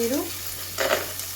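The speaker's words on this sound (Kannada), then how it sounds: "ಇವಾಗ ಸ್ವಲ್ಪ ಪನ್ನೀರ್ನ ನಾನು ಫಸ್ಟೇ ಹಾಕ್ತಿದ್ದೀನಿ. ಯಾಕಪ್ಪ ಅಂದರೆ ಸ್ವಲ್ಪ ಆಯಿಲಲ್ಲಿ ರೋಸ್ಟ್ ಆಗಲಿ ಅಂತ" Paneer cubes roasting in hot oil in a pan, a steady close sizzle with a brief stirring swell.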